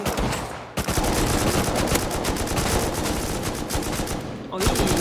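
Rapid, loud gunfire in Rust, shots cracking off one after another in a dense, nearly continuous stream, with a brief pause near the start and another near the end.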